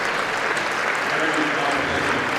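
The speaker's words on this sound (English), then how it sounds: "Gets a nice hand from the crowd." A tennis crowd at the Calgary National Bank Challenger tournament gives steady, moderate applause after a match, a dense, even clatter of clapping lasting a couple of seconds.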